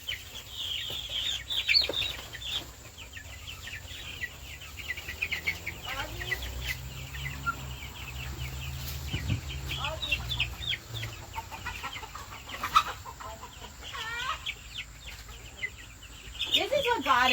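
Young chicks and roosters clucking and peeping in a coop, with repeated high chirps and soft clucks scattered across the whole stretch at close range over low background rumble, while a person talks at times.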